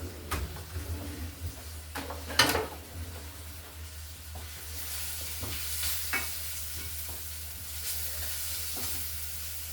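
Vegetables stirred in a pan, with a few sharp scraping clanks of a utensil early on, then a steady low sizzle of cooking that continues alone.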